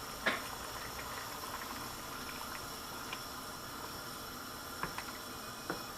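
Cashew-thickened gravy simmering in a pan, a faint continuous bubbling hiss with occasional small pops, no voices.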